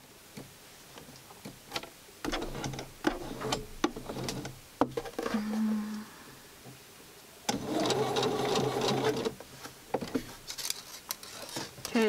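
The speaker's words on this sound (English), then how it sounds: "Now let's sew the parts for the arms together." A sewing machine stitches together the arm pieces of Barbie doll clothes, running in several rapid whirring bursts separated by short pauses and quieter handling clicks, close and fairly loud.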